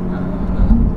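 BMW M2 Competition rated 636 hp and 737 Nm, accelerating hard in fourth gear on a toll road, a steady low engine drone that swells slightly toward the end.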